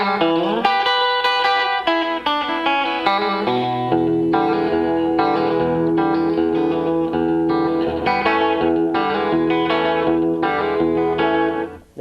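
A 1955 Fender Telecaster plays a lick slowly through a 1957 Tweed Bassman amp, with hammer-ons and pull-offs giving a run of clear, ringing, slightly driven notes that fade at the end, with no voice.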